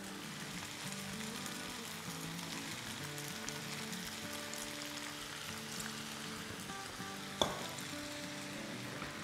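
Singaporean noodles with chicken and soy sauce fry in a pan over high flame, a steady close sizzle and crackle with stirring scrapes throughout and one sharp knock near the end.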